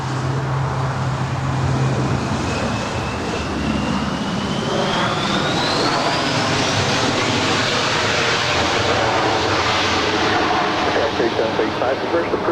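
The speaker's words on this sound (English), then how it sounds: "This is SkyWest 3735 coming in from San Jose. It's an Embraer E175." A SkyWest Embraer E175 jet lands at LAX with a loud, sustained roar and a rising whine, steady throughout. A voice talks over it alongside radio chatter, with distant traffic noise in the background.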